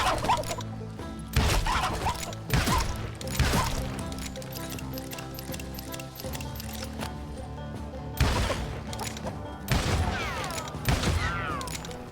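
Pistol gunshots in the Western shooter Call of Juarez Gunslinger, loud sharp cracks fired in irregular bursts with ringing tails over game music and effects.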